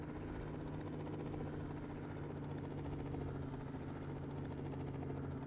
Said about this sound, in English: Chopper up on the roof there.